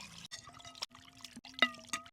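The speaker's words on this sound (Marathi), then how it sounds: "चिकन आता धुवून घ्यायचं." Water is poured over raw chicken being washed in a home kitchen, giving short splashy pours and trickles with small gaps between them, close and fairly quiet.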